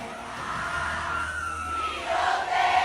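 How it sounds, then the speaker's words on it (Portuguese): Dense crowd noise at a weekend party in the town of São Bento, Paraíba, a continuous wash of many voices, shouting and cheering that swells louder toward the end. "a gente pode ver uma multidão"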